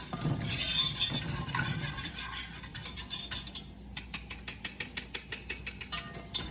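Steady scraping of a spoon stirring flour into a roux for sausage and seafood gumbo, settling into a quick run of regular rhythmic taps against the pot, close and moderately loud with no voices.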